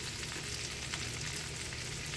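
Cabbage frying in a pan gives a dense, steady sizzle heard close up, with faint stirring scrapes and no voices over it.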